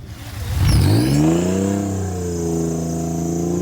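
A Toyota car engine accelerating up a hill, rising from a low rumble into a steady, close revving whine with climbing tone, heard alone with no talk.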